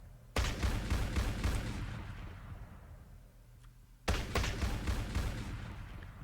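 A defense turret in the Crayta video game fires bullets in a rapid sustained burst, falls quiet for a reload, then opens fire again in a second burst; loud, close and mechanical.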